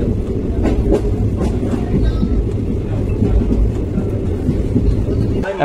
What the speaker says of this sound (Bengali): এখন আমাদের ট্রেন প্রথম গন্তব্যে পৌঁছালো, প্রথম স্টপেজে পৌঁছালো, সেটা হচ্ছে কাঁথি।